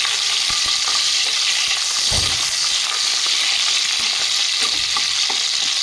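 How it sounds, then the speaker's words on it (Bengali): Chopped onion frying in a pan for green pea pulao, a loud, dense, continuous sizzle and crackle with occasional soft stirring knocks, close up. "পেঁয়াজটাকে আমি হালকা নাড়িয়ে চেড়ে নেব"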